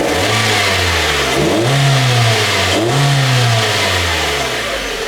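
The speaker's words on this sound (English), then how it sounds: "I'm gonna rev the car." A car engine is revved during a sensor test: it idles, then climbs in two loud, close surges of revving before settling back, with no talking over it.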